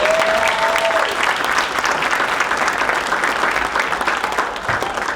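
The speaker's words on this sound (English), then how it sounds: "please give them a round of applause" Steady, loud applause from a college winter jazz concert audience, continuous clapping that fills the whole stretch without letting up.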